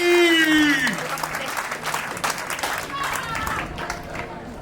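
A crowd at a weightlifting competition at a seaside festival in Kotka, reacting as a European champion lifts a 110 kg barbell: a loud burst of applause and murmuring that settles into steady, diffuse clapping, with an announcer's voice over it.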